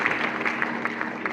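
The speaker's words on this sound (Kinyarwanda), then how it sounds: "mufashe tumuha amashyi menshi" Steady applause from a church congregation honouring a wedding couple, a dense, even patter of clapping hands filling the room without pause.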